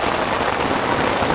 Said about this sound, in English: this is what it's like in Vietnam when it rains